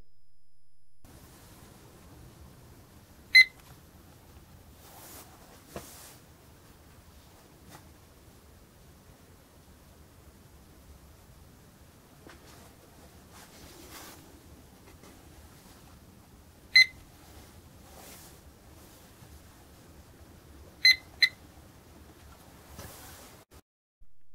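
A digital stopwatch timer gives a few short, sharp electronic beeps, single and in a quick pair, scattered across a long near-silent stretch with faint handling rustle between them.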